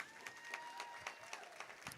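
Faint applause from an audience at a luncheon, a soft, steady wash of clapping with a few distinct claps standing out, heard from a distance.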